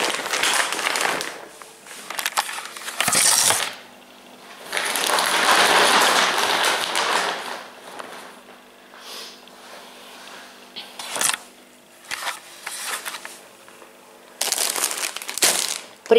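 Plastic garbage bags for a waste bin are handled up close, giving loud bursts of crinkling and rustling that come and go, with quieter pauses between the bursts.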